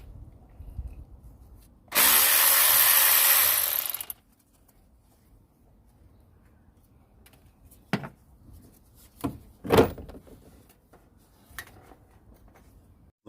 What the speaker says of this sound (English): Just remove the bolts now.